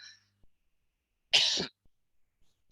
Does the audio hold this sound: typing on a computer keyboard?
no